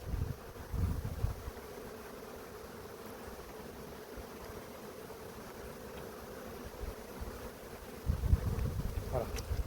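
Honeybees humming in an open hive while a keeper treats and feeds the colony in early winter, a steady low drone with louder bursts of buzzing at the start and near the end.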